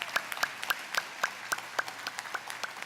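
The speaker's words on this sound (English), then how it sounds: "Let's give her a round of applause." A small group at a campus ribbon-cutting ceremony gives sparse, rhythmic applause, a handful of distinct claps in an even beat, fairly close and moderately quiet.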